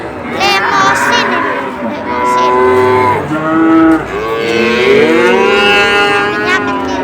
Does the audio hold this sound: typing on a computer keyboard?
no